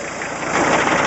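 A Jeep CJ7 diesel engine with no glow plug idles close by, giving a steady, loud, even rumble with no talk over it.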